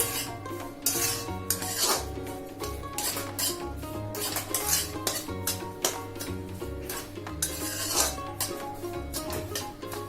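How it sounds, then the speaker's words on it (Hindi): A spoon scraping and clinking against a pan while stirring a sooji laddu mixture of semolina, sugar and cardamom powder over a low flame, with repeated rhythmic metallic scrapes and taps, close and clear, and no talking. "इसको भी थोड़ा सा मिक्स कर लेते हैं।"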